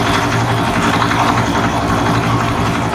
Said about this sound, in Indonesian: Ini motornya sekali starter langsung menyala ya, berarti ini sangat rawat sekali mesinnya.